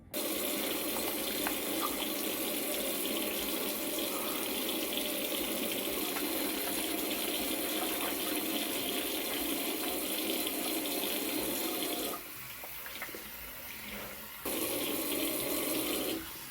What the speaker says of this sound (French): je vais mettre l'eau.